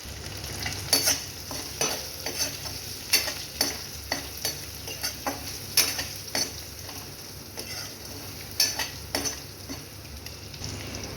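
Small shallots sauté in a pan with turmeric powder and salt, a quiet background sizzle punctuated by repeated scraping strokes of a spatula against the pan, some sharper clinks mixed in.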